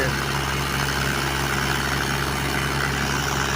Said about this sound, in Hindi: ये देखें जी, ये ट्रैक्टर के साथ